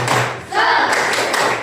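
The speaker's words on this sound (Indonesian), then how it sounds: "mari kita tepuk semangat dulu agar kita bisa mulai dengan penuh dengan energi" Classroom of pupils doing a rhythmic spirit clap together, a burst of group claps and voices in short repeated patterns, close and fairly loud with chanting mixed in.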